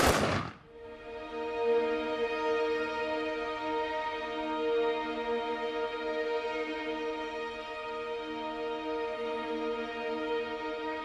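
A single sharp rifle crack from a volley at a veterans' memorial, followed by a long sustained tonal ring that hangs and slowly fades over several seconds.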